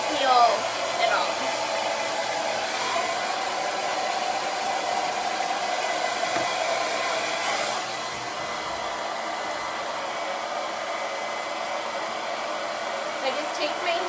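A hair dryer blows steadily at close range during a blow-dry, a continuous breathy whoosh that dips slightly in strength partway through and runs without talk.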